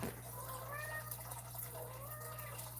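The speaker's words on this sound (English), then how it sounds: "I hear my cat in the background." A cat meows in the background of a home painting session, with soft, drawn-out meows repeating under a steady electrical hum and light water-like noise.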